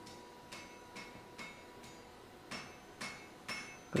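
Hammer blows fall on mild steel during fluxless forge welding of tongs, seven sharp metallic strikes at a steady rhythm about half a second apart, moderately faint, with no talk.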